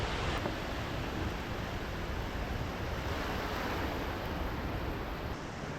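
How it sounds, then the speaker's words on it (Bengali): Ocean surf on a beach at Cox's Bazar, heard as a continuous broad roar of breaking waves mixed with wind buffeting the microphone, steady and loud with no voices. "সমুদ্রের গর্জন"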